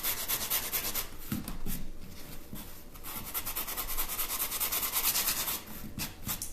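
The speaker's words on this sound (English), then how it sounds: "we're just sanding off the edges to make it completely fit on top of this antique box" Sandpaper rubs steadily back and forth, close and fairly loud, as the edges of decoupage tissue paper are sanded down on top of an antique box.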